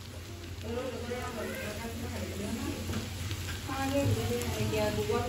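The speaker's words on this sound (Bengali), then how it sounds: "তারপরে এটাকে একটু ভালোভাবে ভেজে নিতে হবে।" Chopped onion and garlic fry in a pan, giving a steady oily sizzle with soft stirring scrapes throughout while a voice talks over it.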